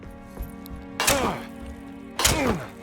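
Fire poker striking an object inside the Alone in the Dark video game: two sharp, loud whacks about a second apart, each ringing off into a short metallic decay over a steady low game hum.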